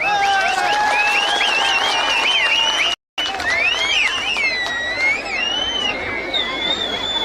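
Crowd applauding and cheering at a Paarivendhar election campaign rally in Thottiyam, loud sustained clapping with whistles and shouts on top, broken by a brief dropout midway.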